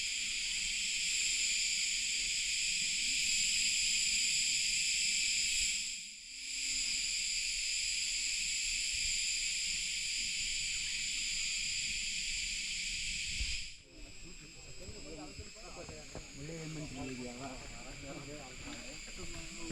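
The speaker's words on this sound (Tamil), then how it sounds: "ஆனா இப்ப கீவண்டுகளோட இரைச்சல் சத்தம் தாங்க கேக்குது." Dense, high-pitched chirring of crickets or beetles fills the forest along the Sathuragiri mountain trek trail, steady and fairly loud. It cuts out briefly partway through, then thins into a busier, more broken chorus near the end.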